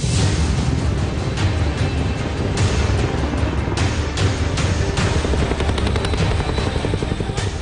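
Sukhoi Su-30 and MiG-29 fighter jets of the Indian Air Force roar through a midnight display near the India–China border, a loud, steady, continuous engine rumble with repeated pulsing bursts, and no voices.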